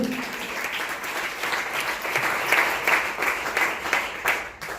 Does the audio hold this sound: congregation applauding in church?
yes